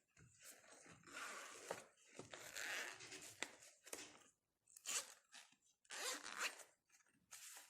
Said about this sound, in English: They have very cute smiley zippers.